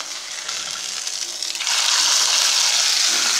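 Hot oil tempering with asafoetida poured over rice for kootan soru, a close hiss that jumps to a louder, steady sizzle partway through, with no talk.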